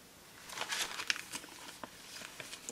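Soft crinkling and rustling of paperwork being handled and set aside, a few quiet handling sounds and light crackles over about three seconds, close by with no talking.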